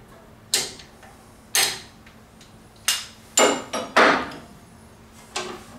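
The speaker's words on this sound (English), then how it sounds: "tap it a couple times with my hand" Several sharp metallic taps ring out on a wrench tightening a hydraulic cylinder assembly in a K Series hydraulic cartridge plunger, about six separate knocks spaced unevenly, close and clear over a quiet background.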